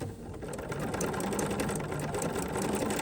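A sewing machine stitching a honeycomb stitch while making lined napkins, heard as a steady, close mechanical whir with a fast rhythmic clatter running throughout, with no talk.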